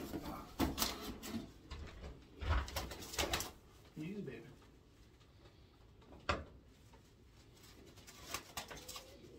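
White homing pigeons coo softly in short bursts during an unboxing, mixed with rustling and handling knocks, while a person talks nearby.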